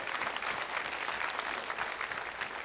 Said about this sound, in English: And I'm glad you're cheering.